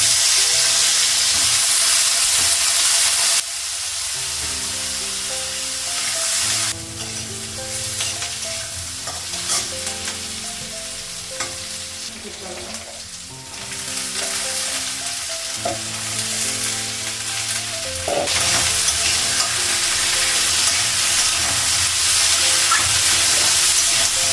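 Onion and capsicum fry in a pan with a loud, continuous sizzle, close up, swelling and easing as the pieces are stirred, with no voices.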